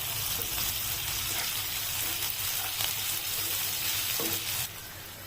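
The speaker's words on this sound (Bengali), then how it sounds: "টমেটোগুলো দিয়ে এর উপর খুব সামান্য একটু লবণ দিয়ে দেব, যাতে টমেটোগুলো তাড়াতাড়ি গলে যায়।" Chopped tomatoes frying in a pan with a little salt, a constant close sizzle with occasional stirring scrapes and clicks, the hiss easing slightly at the very end.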